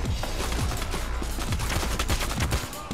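Rapid bursts of gunfire from a heist shootout in the video game PayDay The Heist, dense overlapping shots and automatic volleys cracking continuously and loudly throughout.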